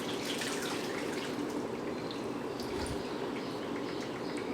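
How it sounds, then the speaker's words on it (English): Tomato and wine mixture being poured over chicken in a crock pot, a continuous liquid splashing and trickling with a few drips, close and moderately loud, with no talking. "take the tomato wine mixture that's on the stove and pour it over the top"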